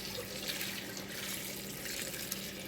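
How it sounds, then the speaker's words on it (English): Water pours steadily over pinto beans being rinsed, a continuous close hiss and splash of running liquid with no voices. "and I'm pouring over these beans to rinse."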